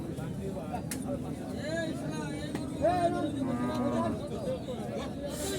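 Cattle low in drawn-out moos amid a busy cattle market crowd in Horgoj, Manikganj, with people talking nearby and a steady background murmur.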